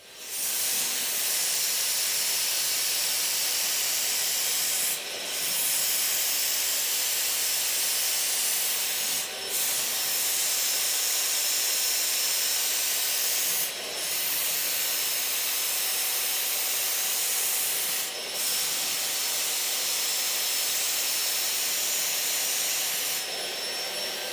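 An Earlex 6700 paint sprayer from Wagner sprays MDF with a loud, steady airy hiss that runs throughout, broken by four brief pauses where the trigger is released and pressed again.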